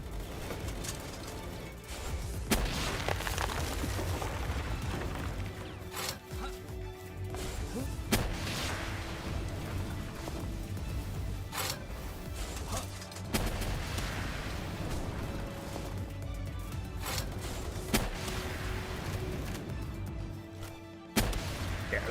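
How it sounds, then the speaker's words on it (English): Repeated loud explosions in the video game Palworld, sharp booming blasts every few seconds over a continuous rumbling game background, with no talk. "I wish they took fall damage from the explosions."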